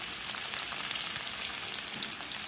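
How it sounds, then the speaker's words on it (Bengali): Paneer frying in hot mustard oil in a pan gives a steady, dense, crackling sizzle that runs loud and unbroken throughout, with no one speaking. "যতক্ষণ আমি পনিরটা ভাজছি"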